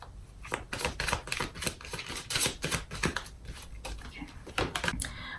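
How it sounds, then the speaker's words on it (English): Quiet, close-up riffling and rapid clicking of a deck of cards being shuffled. "These are so hard to shuffle."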